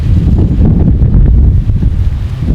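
Loud wind buffets the microphone, a heavy roaring rumble with gusty fluctuations that goes on without a pause.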